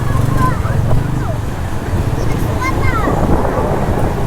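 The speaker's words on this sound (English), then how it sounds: "Pretty windy." Strong wind buffets the microphone on a beach after a typhoon in El Nido, Philippines, a constant low rumble, with faint distant sounds drifting through the gusts.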